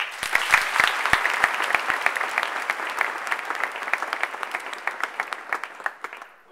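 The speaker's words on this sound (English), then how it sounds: "please welcome me to give a big round of applause to Deputy Mayor Bob Steele" A welcoming round of applause for a deputy mayor at a tech meetup launch event: a crowd claps densely at first, then thins into scattered individual claps that fade out near the end.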